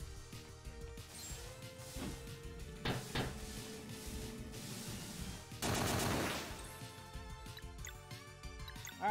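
A bomb goes off in the video game Sea of Stars, a burst of crashing, gunfire-like game effects with a loud dense blast near the middle, set among other clattering sound effects and music.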